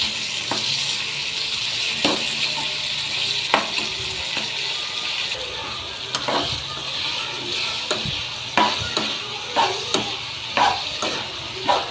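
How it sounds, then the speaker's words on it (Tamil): Masala sizzles in a pan for a paarai fish curry, a steady frying hiss broken by repeated scraping strokes of a spoon stirring, growing more frequent toward the end. "இப்போ பாறை மீன் குழம்புக்கு தான் இந்த இது ரெடி பண்ணிக்கிட்டு இருக்கோம். மசாலா இது நல்லா சுருள வதங்கட்டும்"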